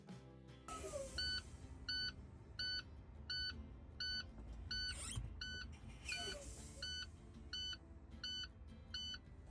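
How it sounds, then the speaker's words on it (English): Low air pressure warning buzzer in a truck's air brake system beeps in a steady repeating rhythm of about ten short pulses, fairly loud over a low engine rumble with no talking. "Once the light comes on and the buzzes sound on both gauges"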